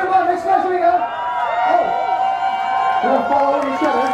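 A crowd at a contest cheers and whoops, with excited voices rising and falling over steady chatter and some talk mixed in.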